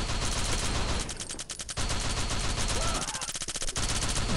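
Lewis gun firing in the shooter game Bullet Force, loud rapid bursts of automatic fire that stay dense and continuous, with a voice talking over part of it.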